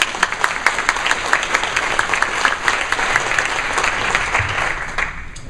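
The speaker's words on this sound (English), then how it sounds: "So I'd like you to clap your hands for Dave." An audience claps for a caregiver at a panel event, steady sustained applause with crisp individual hand claps, fairly close and loud, tapering slightly toward the end.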